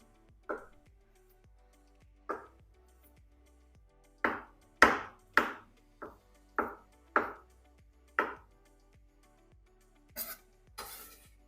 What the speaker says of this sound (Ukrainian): Нарізаю яйця теж не дуже дрібно.